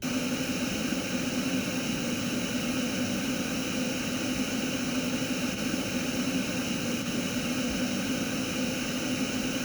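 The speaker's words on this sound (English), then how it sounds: "Question, pink noise." A steady, unbroken hiss of pink noise holds constant from start to finish, even and loud with no variation or voices.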